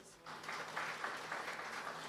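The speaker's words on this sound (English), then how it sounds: "Let's give him a round of applause." Audience applause for a pastor at a nighttime Bhakti Gyan Yagya gathering, a soft, fairly distant patter of clapping hands running steadily to the end with faint background murmur.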